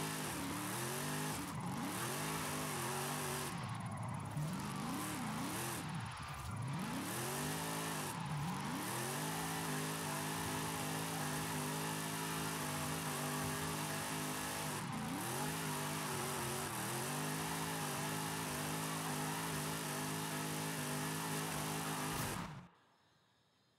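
A Nissan 240SX Formula Drift car in Forza Horizon 5 revs hard and continuously, its engine note repeatedly climbing and dropping through gear changes and throttle blips, loud and sustained before cutting off abruptly at the end.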